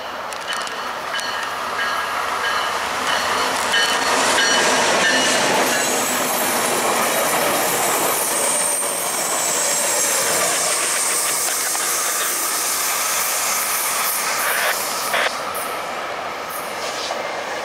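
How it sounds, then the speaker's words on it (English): A southbound Tri-Rail commuter train passes close by, a loud continuous roar of rail wheels with hissing and squealing metallic tones that swells mid-pass and slowly eases off. "Southbound Tri-Rail."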